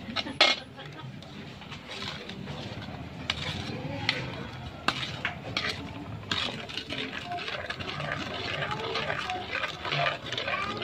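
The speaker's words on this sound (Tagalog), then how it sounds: "Gumamit po tayo ng mahabang sandok para hindi mainit at hindi nakakangawit magluto." Ube halaya being stirred in a pan with a long ladle: repeated scraping and clinking of metal against the pan in an irregular rhythm, close and moderately loud, with someone talking over it.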